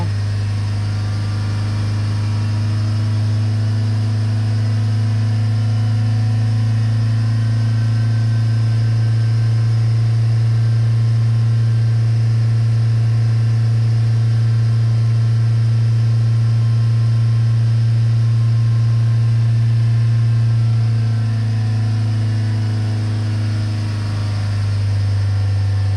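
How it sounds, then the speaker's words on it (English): A 2014 Vauxhall Vivaro van engine idles steadily under a DPF cleaning, a constant loud droning hum with a faint rise in revs, heard alone without talk. "because it's starting to clean out, the revs are picking up"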